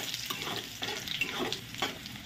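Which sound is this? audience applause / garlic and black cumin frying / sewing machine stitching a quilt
garlic and black cumin frying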